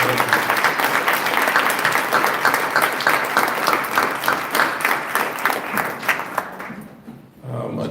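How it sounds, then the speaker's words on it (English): An audience at a village board meeting claps for the village employees, a dense, even round of applause from a roomful of people that carries on for several seconds before fading out near the end. "ask everybody to give a round of applause to the employees for the Village of"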